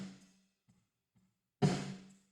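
Snare drum hit through an ungated Valhalla Room reverb plugin: a few faint low taps, then one loud crack blooming into a broad, bright reverb tail that decays over about three-quarters of a second.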